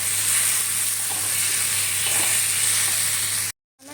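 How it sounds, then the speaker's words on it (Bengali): Eggplant pieces frying in a hot pan give a steady, close sizzle that runs unbroken for about three and a half seconds, then cuts off abruptly. "এবার বেগুনগুলো দিয়ে দিয়েছি,"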